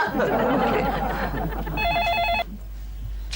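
A phone rings with a steady electronic trill partway through, over a busy background wash, then cuts off abruptly.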